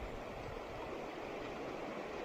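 A river waterfall on the River Tees: a steady, soft rush of falling water, even and continuous without breaks, fairly quiet and with no voices.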